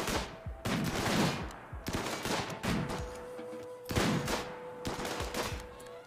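Colonists in RimWorld open fire together in an attack, loud rapid bursts of gunfire in several volleys with short pauses between them, and no talking.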